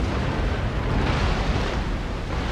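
Warship cannons firing in a Napoleon Total War multiplayer sea battle against Swedish ships, a dense continuous roar of booming broadside fire with no pauses, loud and steady throughout.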